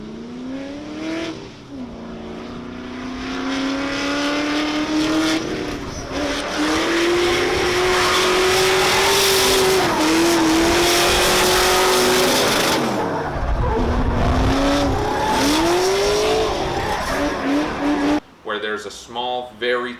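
A race car on a track roars close and loud, its engine pitch climbing and dipping through gear changes, with bursts of tire squeal and a sudden drop near the end.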